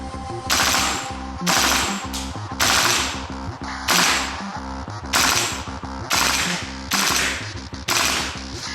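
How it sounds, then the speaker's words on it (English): A KWA LM4 PTR gas blowback airsoft rifle in M4-A1 configuration empties a whole magazine in eight loud, sharp bursts of rapid shots, each burst followed by a brief pause. "Okay, Richard, you fired now a whole magazine through the production model"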